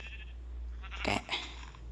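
A sheep bleats once in the Minecraft video game, a short, clear, nasal call lasting around half a second, loud and close, over faint background hum.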